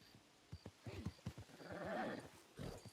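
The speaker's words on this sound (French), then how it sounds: "J'entends des chevaux au loin." Horses in the Red Dead video game, a mix of soft hoof clip-clop and a brief whinny from a distance, faint and scattered over about three seconds with no talk.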